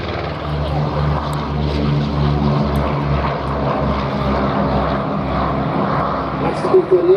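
A four-blade propeller aircraft passes at an airshow, a loud, steady droning engine with strong low harmonic bands and a pulsing beat, holding close and continuous throughout with faint background voices.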